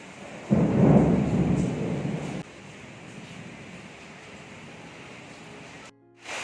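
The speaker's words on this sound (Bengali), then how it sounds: "কী পরিমাণ বৃষ্টি হচ্ছে একবার দেখো" A loud rumbling thunderclap rolls for about two seconds over heavy rain, which then keeps pouring in a steady, dense hiss until an abrupt cut near the end.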